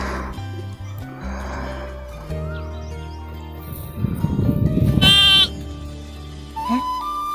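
Small lamb bleating amid background music, a few distinct wavering cries with one loud close call standing out, in a dramatized rural scene.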